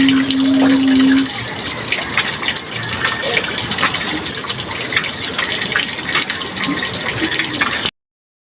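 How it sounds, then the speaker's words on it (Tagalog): Tap water gushes loudly and steadily while fish are cleaned outdoors, a dense continuous rush that runs almost the whole time and then cuts off abruptly at the end. "Buksan mo ng mas malakas na kasi yung tubig."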